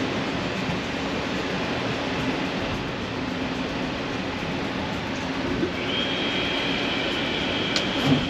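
Steady rumbling of an Amtrak Crescent passenger train on the rails as it pulls into Anniston, Alabama, a constant broadband roar with a faint high whine appearing near the end.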